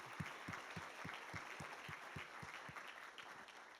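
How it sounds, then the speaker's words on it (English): Conference applause at a session on social-ecological tipping points sounds as a diffuse wash of clapping, with a regular low thumping pulse running under it and the crowd noise staying steady throughout. "A huge round of applause for that expert sharing."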